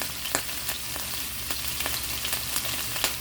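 Ground lamb frying in a little oil in a pan, a steady close sizzle with crisp pops and crackles scattered throughout and no talk.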